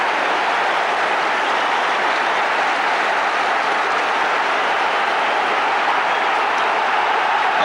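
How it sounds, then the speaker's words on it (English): Dense, steady roar of a large football crowd applauding at Anfield during a Liverpool v Everton FA Cup match, loud and continuous without pause. "Applause all around the ground."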